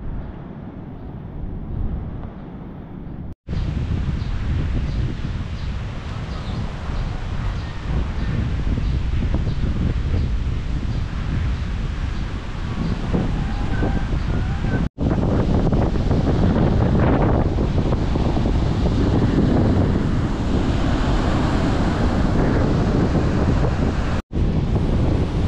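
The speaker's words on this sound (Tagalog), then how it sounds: "Katakot pa rin ang mga alon." Typhoon wind roars across the microphone while rough sea waves crash continuously, loud and close, with brief breaks in the recording.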